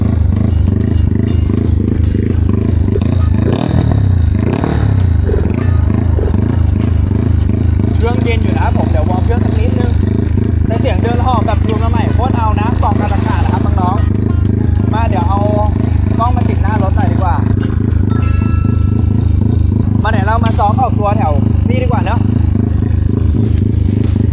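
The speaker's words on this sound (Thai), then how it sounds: "รถไถนาด้านหลังนะครับผมเสียงล้านจัด" A farm tractor engine runs loud and close behind someone speaking, its steady low rumble droning without a break throughout while he talks over it.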